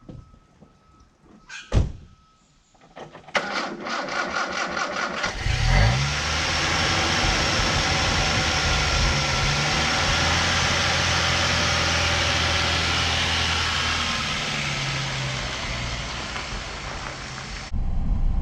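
An old car left sitting in a paddock for twenty years, heard after a few clicks and thumps as its engine fires up and settles into a loud, steady idle close by, with a slight revving swell midway and no voices.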